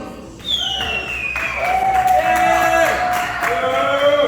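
A game-show crowd erupts in applause and cheering for a winning team at an outdoor summer games event, with whoops and loud sustained clapping filling the space alongside raised voices.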